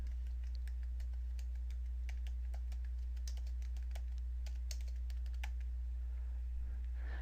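Fingers type on a computer keyboard in a word processor, quick irregular key clicks in short runs with brief pauses, close and crisp over a steady low hum, with no talk.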